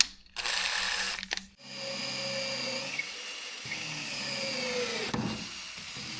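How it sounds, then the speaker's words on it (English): A power drill whirs in short bursts, then runs steadily with a high whine as it bores holes in wood, its pitch shifting as the bit works through. "And drill them hopefully straight."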